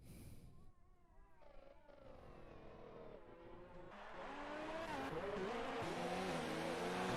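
F1 2019 race car engines scream at the German Grand Prix as three cars run nose to tail, high revving tones climbing and shifting through gears, growing louder and denser toward the end.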